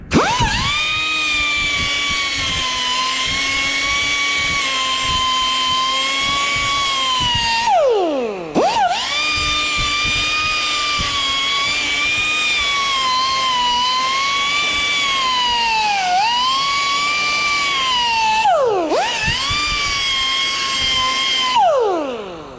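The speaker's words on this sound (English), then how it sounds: "Die grinder" A die grinder running steadily at high pitch while restoring a tilt table, a loud continuous whine that dips and recovers briefly a few times under load, with no talking.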